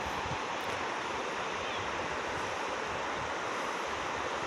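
The Pativilca river flows in a continuous, loud rushing wash of water that fills the clip without a break, with no voices over it.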